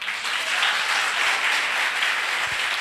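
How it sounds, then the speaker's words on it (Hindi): A large audience applauds steadily and loudly for a few seconds, a dense, even wash of many hands clapping together with no pauses. "आप जरा खुल के ताली बजा सकते हैं?"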